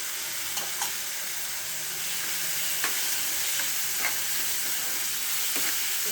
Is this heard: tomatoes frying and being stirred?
yes